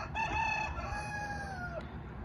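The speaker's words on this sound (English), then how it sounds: "Looks like one of the roosters wants to be in the video too." A rooster crows once at a farm garage, a single clear drawn-out cock-a-doodle-doo at moderate distance, tailing off in about two seconds over faint background noise.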